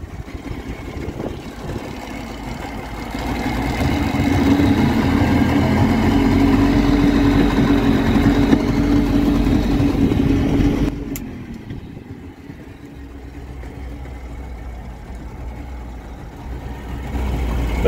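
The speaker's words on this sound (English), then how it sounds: "Yeah, engine's running." A Marina 140 boat's engine runs on the River Thames, a steady loud rumble that grows louder, then drops to a quieter idle near the end, with no talking.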